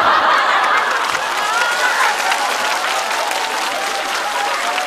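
An audience at a stand-up comedy show bursts into loud applause mixed with scattered laughter, the clapping strong at first and then thinning slightly.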